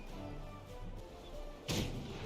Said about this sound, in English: We're gonna go into a cannon.